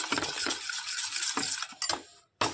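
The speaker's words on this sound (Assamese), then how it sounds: "ধুনীয়াকৈ লৰাই দিলোঁ।" Pitha batter of maida and wheat flour being stirred in a pan on a griddle: a close, busy run of scraping and clinking with a few sharper knocks, alone and without talk, ending in a brief silence before one more scrape.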